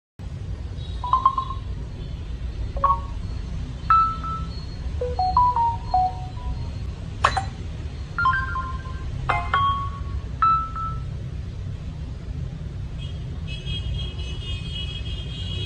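Notification tones on a Samsung Galaxy A13 play one after another as previews: a series of short, clear electronic chimes and pings, each spaced a second or two apart, over a low background rumble.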